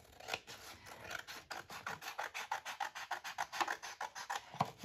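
Scissors snip through paper while a handmade December journal is assembled, a close, quiet run of quick crisp cuts in an uneven rhythm with no talking.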